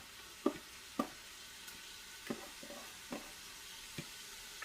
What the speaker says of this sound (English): now we finna saute these vegetables